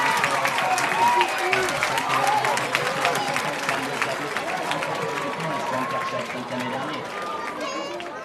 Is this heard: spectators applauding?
yes